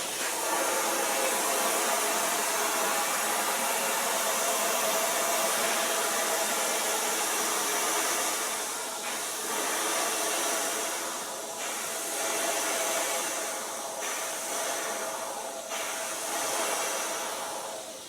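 A Krown rustproofing spray lance pushed deep inside a car door gives off a steady, loud, close hiss of spraying that varies slightly in strength over about eighteen seconds.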